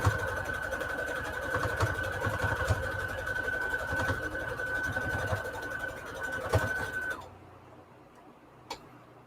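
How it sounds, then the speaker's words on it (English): A sewing machine runs steadily while joining two quilt blocks with a quarter-inch seam, humming and ticking close by for about seven seconds before stopping abruptly. "we're gonna sew these two blocks here with a 1/4 inch seam"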